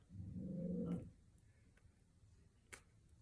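A dog barks excitedly indoors, one dense burst of barking in the first second, then quiet room tone with a faint sharp click near the end.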